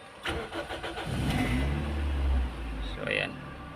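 A Toyota Vios engine cranking and firing up with a key, a short starter whir that catches into a steady idle rumble, with a person talking nearby before and after.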